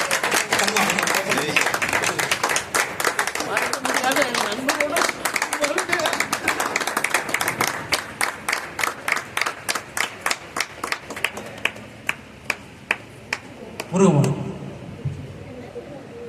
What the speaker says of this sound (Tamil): நல்ல கரகோஷம், இன்னும் கொஞ்சம் நல்ல கரகோஷம்.